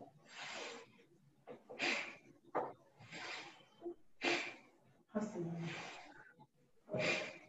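Repeated forceful pranayama breaths, about six sharp bursts of air at a steady rhythm, close to the microphone, with brief pauses between them.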